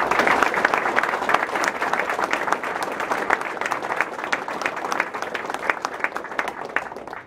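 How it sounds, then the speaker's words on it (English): An audience at an ROTC awards ceremony gives a loud, sustained round of dense applause that stays strong for several seconds before tailing off at the end. "can we give a round of applause to Gina, because she's such a genuine supporter in the fight for veterans"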